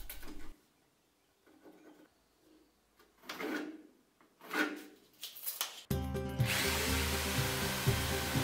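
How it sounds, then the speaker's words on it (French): A power tool cuts a board from an old wooden pallet. After a quiet stretch of faint knocks and handling, it starts abruptly and runs with a loud, steady, harsh whine to the end. "À l'aide d'une palette dont je ne me sers plus, je vais découper une planche de 20 par 30 cm."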